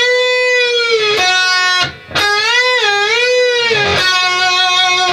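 An electric guitar with distortion plays a sustained note that bends up a step and a half and releases back down, repeated twice with a brief gap, loud and close with no talking.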